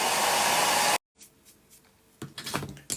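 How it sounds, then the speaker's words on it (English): A hairdryer blasts loudly on a model building part for about a second and then cuts off abruptly, leaving quieter handling noises and light clatter. "I'll just give that a quick blast with the hairdryer so I can stick it in place."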